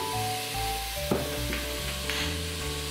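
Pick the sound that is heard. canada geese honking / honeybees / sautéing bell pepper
sautéing bell pepper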